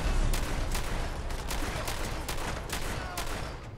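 Rapid, sustained gunfire in the video game Fallout 4, a dense crackling volley of repeated shots at steady loudness with sharper individual reports punctuating it throughout, no talk.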